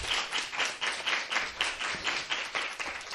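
An audience at a National Youth Day 2023 entrepreneurship event claps steadily to welcome a speaker, a bright, even wash of hands with a light pulsing rhythm and no voices.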